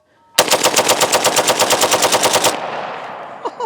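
Rapid burst from a rifle fitted with a 3-position FRT forced-reset trigger, about twenty loud, evenly spaced shots fired in roughly two seconds, then ringing decay and a faint click.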